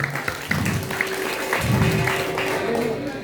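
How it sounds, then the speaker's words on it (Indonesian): Clapping from a crowd at a Balinese bondres comedy performance in Karangasem rises and falls in scattered bursts, mixed with voices talking over it. "luar biasa tepuk tangan oleh pisan"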